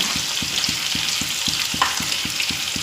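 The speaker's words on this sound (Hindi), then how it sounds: "तो नीचे लगाना है अब साग में तड़का।" Steady sizzling of a spice tempering frying in hot oil for cooked greens (saag), continuous crackle with a faint regular thumping underneath and a small clink midway.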